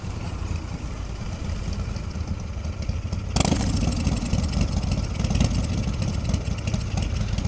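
A Royal Enfield Continental GT650 motorcycle engine and exhaust, a steady idle-like rumble that jumps louder partway through as the bike revs or pulls away, close by with buffeting noise.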